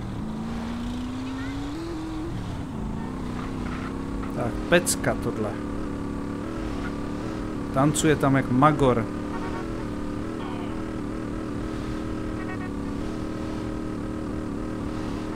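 An FCR-900 motorcycle engine drones in GTA San Andreas, rising in pitch at first, then humming steadily beneath someone talking, with a brief cluster of louder bursts midway.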